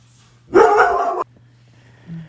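A big Labrador mix of about 100 pounds barks indoors in a single loud, close burst of rapid barks lasting under a second, followed by a softer short vocal sound.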